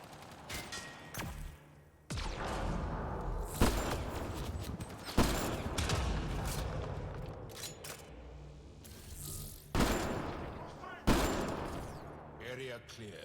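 Gunfire rings out in the sci-fi shooter game Mass Effect Andromeda, with repeated sharp shots and bursts at intervals over a continuous combat soundscape, while a person talks over it.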